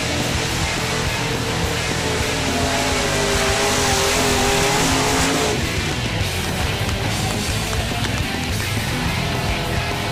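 Mud trucks racing at a mud bog event at Sparks America campgrounds, engines roaring loud and continuous as they rev hard, the pitch climbing then dropping into a rougher, lower roar midway through.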